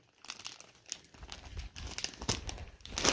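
A plastic bag holding sewing interfacing packets is handled, giving close, continuous crinkling and rustling that builds to a louder burst at the end.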